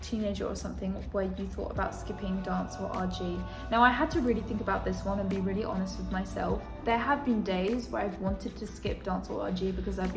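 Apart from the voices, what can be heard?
No everyday noises stand out.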